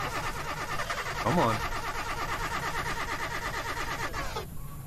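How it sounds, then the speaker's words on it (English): A car engine starts in an alien-invasion video game, a steady rattling motor drone with a sweeping rev partway through that cuts off abruptly near the end, while a voice speaks briefly over it. "start the car"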